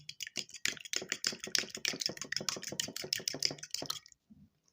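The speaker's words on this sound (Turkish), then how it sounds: "Güzel çırpıyorum" Whisking a single egg yolk in a small bowl, a rapid, steady run of light clicking taps from the whisk against the bowl for about four seconds, close and alone, then stopping.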